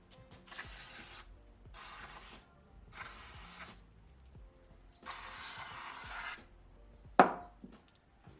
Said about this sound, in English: We're gonna go ahead and clean the cold side a little bit with some brake cleaner.